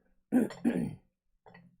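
A person clears their throat twice in quick rough bursts at close range, followed by a short, softer grunt-like cough; no speech.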